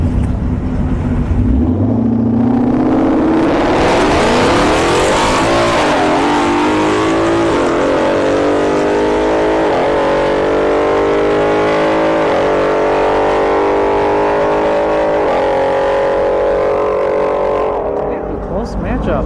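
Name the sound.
drag race, Mustang vs Cadillac CTS-V accelerating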